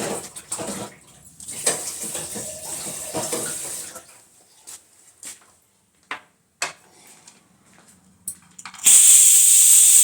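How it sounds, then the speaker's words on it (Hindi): Water runs from a kitchen tap for hand washing, a loud steady hissing stream that starts abruptly near the end, after a stretch of quiet clatter and light movement. "रहने दो, हाथ धो ले।"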